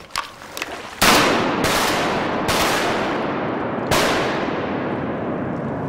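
Shotgun blasts fired at ducks during a sunrise waterfowl hunt: four loud, sharp reports with long ringing tails, spaced about a second apart, preceded by a couple of fainter shots.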